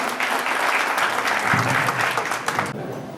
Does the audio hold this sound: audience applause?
yes